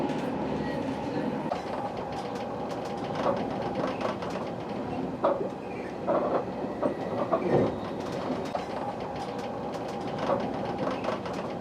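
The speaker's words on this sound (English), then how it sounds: "Now on the high-speed rail section, we're travelling just over 215 k's." Renfe high-speed train cruising at over 215 km/h, heard from inside the carriage as a steady low rumble and rush with faint rhythmic clicks and occasional clunks.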